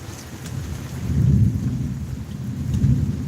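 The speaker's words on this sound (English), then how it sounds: "I like that thunder." Low, rolling thunder rumbles steadily through a thunderstorm with rain hissing underneath, swelling twice to louder peaks, close and without voices.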